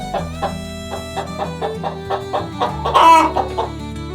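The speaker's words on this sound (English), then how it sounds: "Chicken," Chicken on a farm clucking in a rapid, rhythmic series of short notes, close by, ending with a louder squawk.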